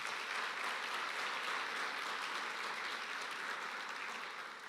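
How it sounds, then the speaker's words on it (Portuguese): A church congregation at an Easter service applauds together, a dense, even roar of many hands clapping that holds steady throughout at a moderate distance, with no voices heard over it. "Aplaudir a Jesus, é Jesus."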